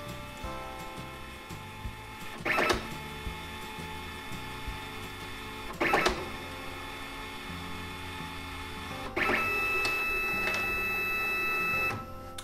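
A Magicard Rio Pro ID card printer runs a cleaning card through, giving a steady mechanical hum with three brief louder whirring bursts and a longer motor run near the end, with no one talking.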